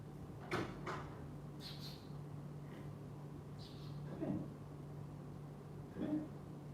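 A house door opens to let a cat in, making faint, scattered clicks and soft thumps of a latch and moving door over a quiet background hum.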